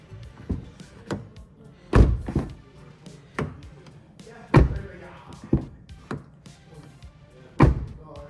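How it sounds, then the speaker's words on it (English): BYD Seal U car door handled in a series of sharp, solid thunks and latch clicks, roughly one every second, close and clear with light movement between them. "let's hear the door opening noise"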